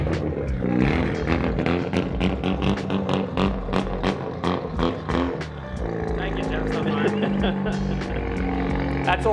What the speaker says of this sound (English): Bloody drift cars making a lot of noise.